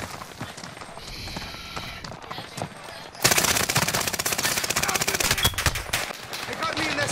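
Video-game gunfire: quieter ambience with faint voices at first, then a sudden loud burst of rapid machine-gun fire that keeps rattling in close, dense volleys.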